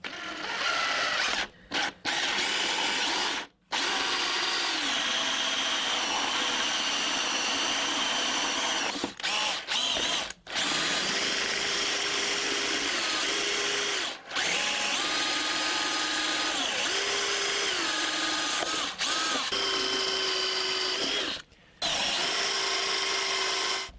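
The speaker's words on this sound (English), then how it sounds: "drilling out the airbox" A power drill whines steadily for a long stretch while drilling out an engine airbox, its pitch shifting as it bites into material, stopping briefly a few times before restarting.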